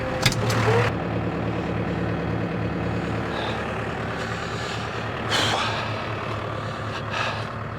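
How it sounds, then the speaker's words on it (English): A heavy diesel tractor engine idles steadily nearby while warming up, a low rumbling chug with a brief hiss of air at the start and another midway. "tractor can go on and warm up, we'll get loaded up."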